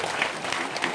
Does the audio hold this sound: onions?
no